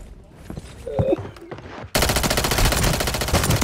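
Call of Duty gameplay: after a quieter opening with scattered shots and a brief voice, sustained automatic gunfire suddenly erupts and rattles on loud and dense to the end.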